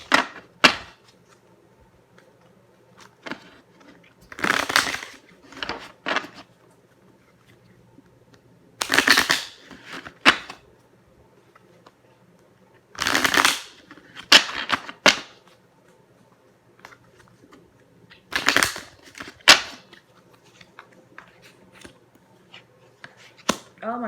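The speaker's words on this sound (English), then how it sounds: "I'm going to actually shuffle these cards up" Chakra cards are shuffled in several separate bursts of quick riffling and flapping, close and moderately loud, with quiet pauses in between.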